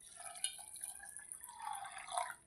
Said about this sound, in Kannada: ಸ್ವಲ್ಪ ನೀರು ಹಾಕ್ಕೊತೀವಿ